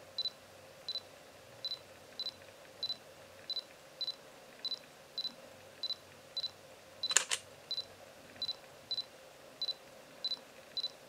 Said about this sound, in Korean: 이동 속도가 상당히 빠른 편이고 고동 소음도 거의 없는 우수한 AF 성능을 보여주고 있습니다